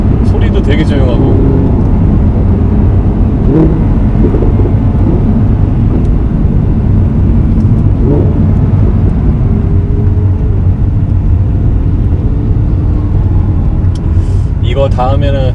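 Inside an Audi R8 V10 on the move, a loud, steady low engine and road rumble fills the cabin, with people talking over it throughout.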